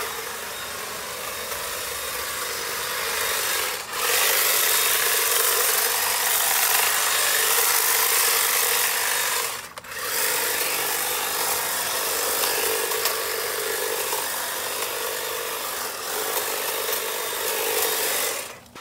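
A Stihl HSA66 battery hedge trimmer cuts through a bush with a loud, continuous buzzing chatter. The motor briefly pauses twice before running on, all close by and with no talking.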